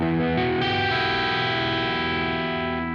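A single heavily distorted electric guitar minor add9 chord rings out loud and sustained, dark and brooding, with a slight shift early on before it holds and slowly decays.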